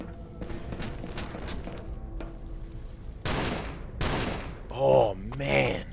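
Heavy gunfire in a first-person video game, a dense burst of loud rapid shots followed by a few booming blasts and tonal game effects toward the end.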